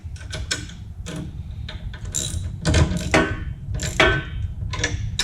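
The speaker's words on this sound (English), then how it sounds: "I'm just tightening those up so I can still move it if I need to." Bolts being tightened on a QwikChute mount for a Wright ZXT mower, a close series of irregular metallic ratcheting clicks and clanks in short bursts, with no talk.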